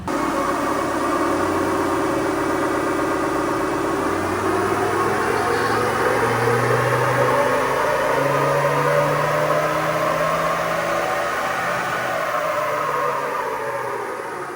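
Mazda BT50 3.2L diesel engine running on a dyno during a tune, a loud steady drone with rising and falling pitch sweeps held for the full stretch, close up and without talk.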